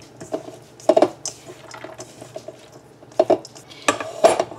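A spoon stirs shredded cheese in a bowl, making several irregular close scrapes and clinks against the bowl with quiet pauses between bursts.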